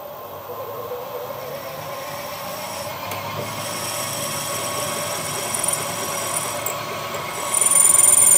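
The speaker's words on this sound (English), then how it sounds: "This miller machine is definitely starting to make a horrible noise again." Milling machine running with a harsh grinding, rubbing noise, a steady mechanical drone that gets louder toward the end, with no talk.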